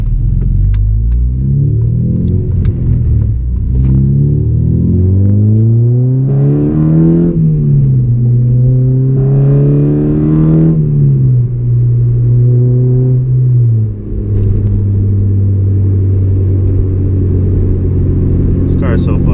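A Honda Civic Si FA5 engine drones from inside the car while driving, a deep steady hum whose pitch rises and falls through gear changes as the engine revs up and settles, close and continuous throughout.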